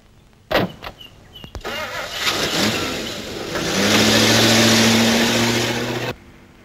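Car engine cranks and catches, then revs and pulls away, with rising engine drone building and holding loud before cutting off, after a few door and body clunks near the start.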